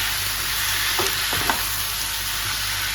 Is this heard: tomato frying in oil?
yes